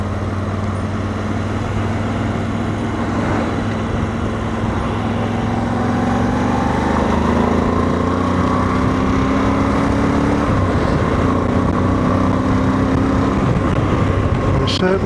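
A BMW V85TT motorcycle engine with a decat exhaust drones steadily and loudly throughout, its pitch rising and sliding as revs climb, with a rough, throaty exhaust tone close by.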